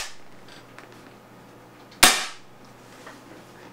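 A Spyder Hammer 7 .68 caliber marker on a high-pressure air tank fires one loud, sharp pop of a heavy breaker ball, standing alone against a quiet background.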